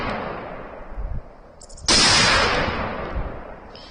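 A single loud rifle shot rings out at night toward a cardboard target holding heated batteries, a sharp broadband crack that decays slowly, preceded by a quieter thump and faint background noise.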